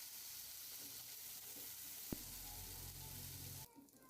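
Shengolya ingredients, a garlic and coconut paste, sizzle and fry steadily in hot oil while being stirred until brown, with one sharp clink of a utensil midway before the sizzling cuts off.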